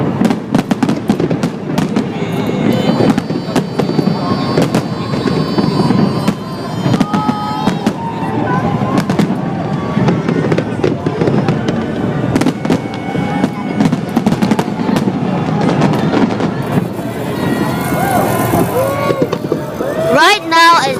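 Fireworks bursting in the video game Minecraft, colored with dyes, a dense continuous run of crackling pops and booms under steady chatter, ending in a louder close burst.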